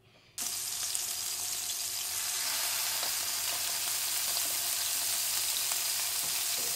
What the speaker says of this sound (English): Now I'm ready to fry.